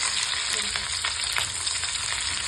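Finely chopped green chillies fry in hot oil with cumin for curd poha, a steady close sizzle with scattered crackles and pops running through the whole moment.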